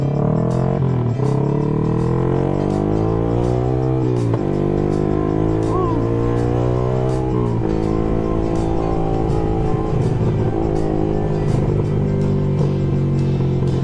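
An old Suzuki Scorpion motorcycle engine drones under hot, dense traffic, a loud, continuous motor hum with pitch rising and falling as it revs, while someone talks over it.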